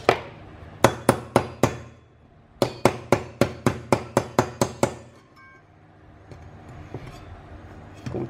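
Loud hammer blows strike a part down during repair of an induction cooker with a Copreci board: a quick run of four blows, a pause, then about eleven more evenly spaced strikes.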